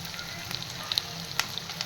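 Chopped onion hits hot oil with bloomed cumin on a tava for tava pulao, giving a brief, even sizzle with a few small crackling pops and no voices.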